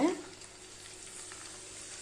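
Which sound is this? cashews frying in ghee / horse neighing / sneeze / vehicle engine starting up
cashews frying in ghee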